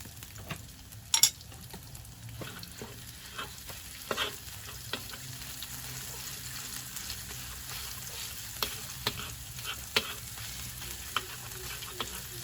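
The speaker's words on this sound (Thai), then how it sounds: "ใส่ พริกนะครับที่เรา โขลกไว้เมื่อกี้นะครับลงไปผัดนะครับ" Pounded chillies stir-fry in hot oil, with a soft continuous sizzle and sharp intermittent scrapes and clanks of a spatula against the pan. A few louder knocks stand out near the start, and no one speaks.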